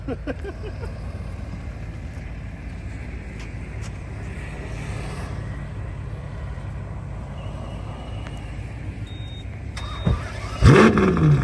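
Supercar engines of a Ferrari 812 Superfast and a Lamborghini Aventador during a cold start, a steady low rumble that holds for most of the stretch before a sudden louder burst of revving near the end.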